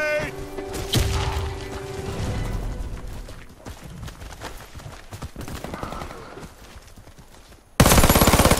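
Warface ranked hardcore match: rattling automatic gunfire and thuds from the shooter game, with in-game voice callouts, ending in a sudden loud grenade blast.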